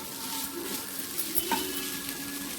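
Leftover cooked rice tossed into green rice in a pan, a steady close scraping stir over a soft continuous sizzle, with no voices.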